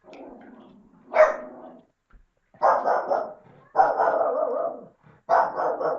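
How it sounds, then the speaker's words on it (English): A dog barks in several bursts, loud and fairly close, with short pauses between them; no talking. "Sorry about my dog in the background there."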